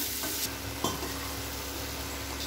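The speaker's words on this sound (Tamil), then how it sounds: "கலந்துட்டு நல்லா கலந்து விடுங்க" Coconut and cashew paste is stirred into a simmering mushroom gravy in a pan, with a soft sizzle and a few spoon scrapes.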